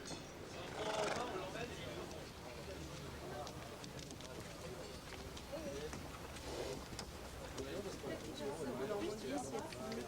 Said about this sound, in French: Allez-y, on pousse les chevaux.